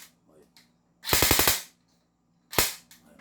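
An airsoft M4 rifle, an M4AI Commando, fires on rapid fire: a quick burst of about six sharp cracks, then a lone shot a second later, loud and close with no talk.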